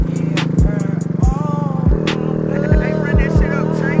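An Icebear Maddog GY6 100cc scooter engine buzzes steadily while riding, close and loud, with a regular thumping rhythm and a voice speaking over it.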